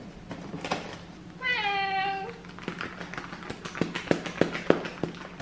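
A single drawn-out cat meow rises clearly in the middle, near and fairly loud, surrounded by light tapping and knocking sounds before and after it.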